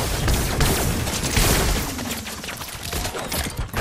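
Fortnite battle with a steady barrage of gunshots and booms, loud and continuous, layered into a chaotic wash of firing without clear breaks.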